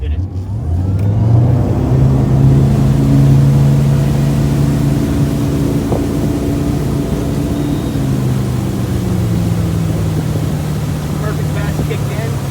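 Boat engine dropped into gear and accelerating to a towing speed, a loud steady motor hum that rises in pitch and then eases slightly, with wind and water noise throughout.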